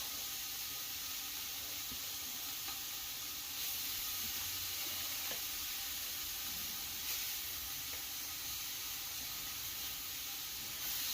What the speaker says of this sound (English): we're going to go ahead and cook the Mexican chorizos